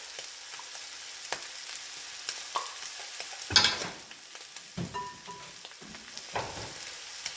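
Beef stew with tomato paste, tomatoes and chilies fries loudly in a pot, a steady close sizzle broken by scraping stirs and a few sharper spoon knocks, with no voices.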